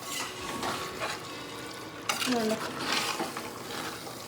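A large pot of vegetable pulao is stirred, cooked in bulk for food distribution, with repeated scraping and churning of rice and vegetables against the metal, close and continuous, with a brief clink midway.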